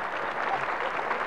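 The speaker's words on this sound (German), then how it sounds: "das war ein donnernder Applaus, meine Damen und Herren" Studio audience applause on a German comedy show, a dense, steady burst of clapping from a crowd, brief and even in loudness with no talk over it.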